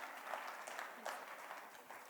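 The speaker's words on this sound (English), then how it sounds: "एक बारी जोरदार तालियां हो जान तुहाडे सारेयां वल्लों।" An audience at a panel session on Punjab's workforce claps in sustained, moderately distant applause for about two seconds, with no voices over it.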